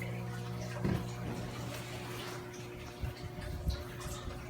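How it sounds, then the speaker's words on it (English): Water pouring into a 110-gallon reef aquarium during refilling after a water change, a steady low trickle and splash with a few louder gurgles, alongside a faint hum. "So we're noticing the water is going up."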